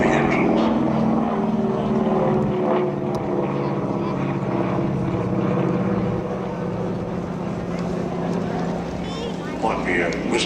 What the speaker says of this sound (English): Let's listen to the whisper of the engines.